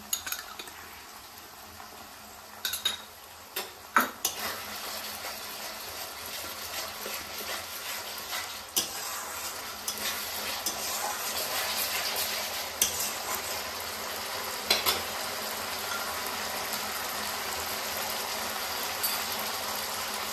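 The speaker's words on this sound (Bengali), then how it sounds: "মশলাটা ভাজা ভাজা হয়ে গেছে, এবার এর মধ্যে দিয়ে দিচ্ছি টমেটো কুচি।" Chopped tomato frying with masala in a pan for ghugni, a soft continuous sizzle with occasional spoon clinks and scraping stirs, faint and close, no voices.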